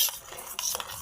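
A spoon stirs turmeric and raw mustard oil into a bhetki fish paste in a bowl, giving a few soft, quick scraping and clinking strokes, close and quiet.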